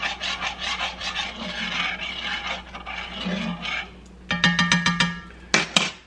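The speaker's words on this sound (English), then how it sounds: "As I'm stirring that in." Homemade vegan alfredo sauce is stirred in a cast iron pan, with steady close scraping strokes that turn into sharper, quicker scrapes near the end and no talking.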